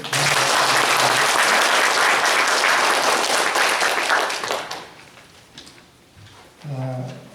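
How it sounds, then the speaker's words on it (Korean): A church congregation at a Sunday service claps together in loud, dense applause for about five seconds before it fades, followed by a few thumps and a brief voice. "예, 우리 박수 한번."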